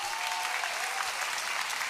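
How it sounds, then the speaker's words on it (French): A crowd at a gathering with children applauds loudly and steadily, a dense continuous patter of many hands clapping throughout. "Et on applaudit le Seigneur bien fort."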